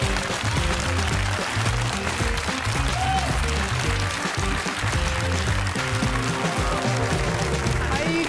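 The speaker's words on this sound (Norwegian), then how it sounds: "Det fortjener en applaus." A television studio audience applauds for author Marta Breen on a talk show, a steady, loud wash of clapping that fills the whole stretch, with a voice speaking over it.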